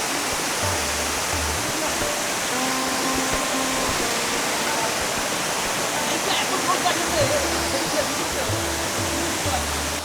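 Bilashi waterfall roars as a dense, steady broadband rush of falling water, loud and unbroken for the whole stretch, with faint indistinct sounds from the surroundings mixed beneath the torrent.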